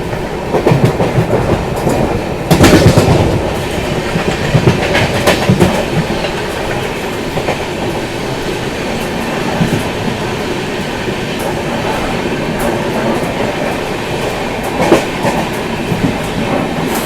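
The Rajdhani Express from Bilaspur to New Delhi runs through the night, heard from inside a coach as a loud, continuous rumble with rhythmic wheel clatter and occasional louder knocks.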